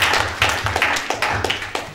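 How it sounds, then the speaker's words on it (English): A small group claps together in a quick, uneven patter, close by, brief applause with no talking. "it's good to clap sometimes"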